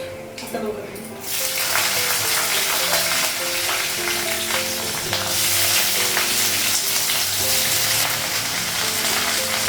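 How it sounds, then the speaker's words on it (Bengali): Loud, dense sizzling of okra frying in a hot wok begins abruptly and continues steadily, with occasional stirring clatter. "কড়াই বসে দিয়েছি ঢ্যাঁড়সটা ভাজা করবো"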